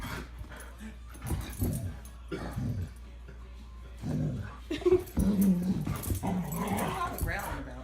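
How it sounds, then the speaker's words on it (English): A dog growls low and whimpers in bursts through the clip, close to the mic, while a person talks over it in a domestic room. "What are you growling about?"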